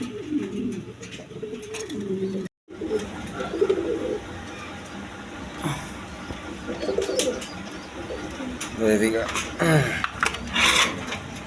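Pigeons, including a breeding pair at a pigeon farm, call and coo in low rolling bursts across the stretch, mixed with someone talking nearby and some rubbing and scraping noises.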